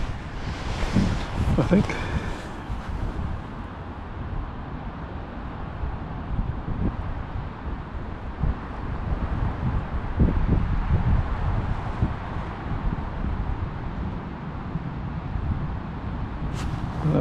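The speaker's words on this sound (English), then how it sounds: "That wind is going right through me" Steady wind gusts buffet an outdoor lakeside fishing match practice, a continuous broadband roar with wind noise on the microphone, while someone speaks briefly near the start.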